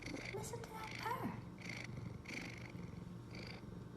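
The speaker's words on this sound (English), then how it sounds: "Listen to that purr." A cat purrs steadily and close by in a low continuous rumble, while someone speaks softly to it over the top.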